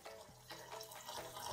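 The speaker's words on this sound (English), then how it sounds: "Add some water" Water is poured into a cooking pan with garlic, giving a faint, brief splashing trickle close by with soft drips and liquid sloshing.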